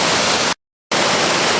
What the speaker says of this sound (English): Hard to believe there's a waterfall this size at this elevation.